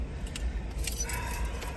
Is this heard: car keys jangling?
yes